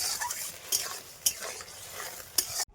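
A spatula stirs a thick garlic and onion mixture in a pan, with steady scraping and a soft sizzle, broken by three sharp clinks of metal on the pan.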